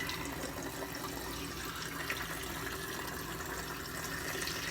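Water running steadily from a tap to wet a shaved head, a constant close rushing flow throughout with no talk.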